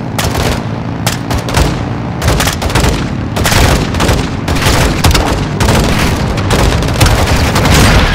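Continuous, loud battle noise in Call of Duty MW2 (2022), set in Urzikstan: a rocket launcher explodes amid dense gunfire. Booming blasts and rapid shots stack into an unbroken roar that stays near and dominant for the whole stretch.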